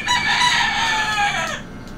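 Chickens crowing and clucking loudly and close, a busy overlapping burst of rooster calls with no talking.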